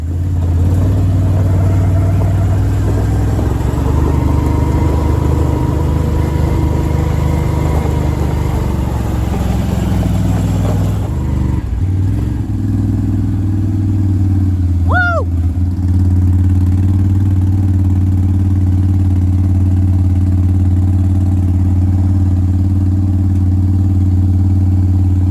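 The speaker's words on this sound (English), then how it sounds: "the little trailer that he's gonna pull with the 4-wheeler" A 4-wheeler ATV engine idles and runs loud and close with a steady low rumble, dipping briefly midway before resuming its even drone, while hitched to a small trailer for hauling mulch.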